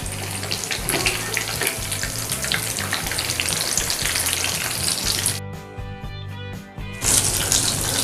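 Aloo tikki frying in oil in a pan, a steady dense sizzle running throughout with a brief dip and gap near the end before the crackle resumes; no talking.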